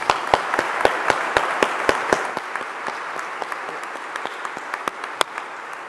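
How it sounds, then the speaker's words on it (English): Audience applause at a university graduation ceremony: a steady wash of many hands clapping, punctuated by sharp individual claps near the front, gradually thinning toward the end. "So let us all give them a round of applause,"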